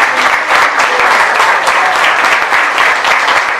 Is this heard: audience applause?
yes